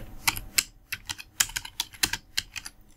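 Someone is typing on a computer keyboard in MS Word. The keys click quickly and irregularly, close-up and clear, with no voices.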